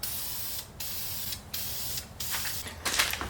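An aerosol can sprays clear top coat onto engine pulleys in four short hissing bursts, close and fairly faint, with quiet pauses between them and a longer, rougher spray at the end.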